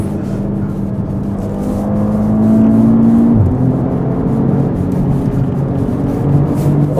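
A wrecked Audi RS3 with a noisy rear end accelerates hard, its engine note rising steadily and holding loud and close throughout.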